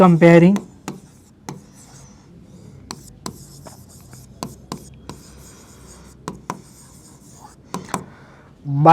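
Pen strokes on paper while working a Class 10 trigonometry problem, soft scratchy scribbles and taps in short bursts, close and quiet, with someone speaking at the start and end.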